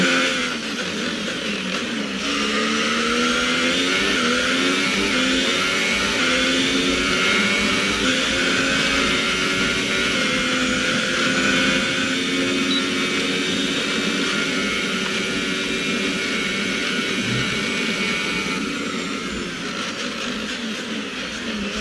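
Formula 1 car engine in the F1 2018 video game during a practice lap at Brazil, a loud sustained high-pitched whine rising and falling through gear changes, steady throughout with no talking.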